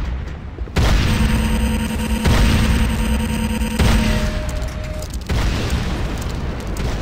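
Explosions and gunfire in the Renegade video game, a loud dense barrage of booms and bursts with steady sustained tones underneath, cutting off abruptly near the end.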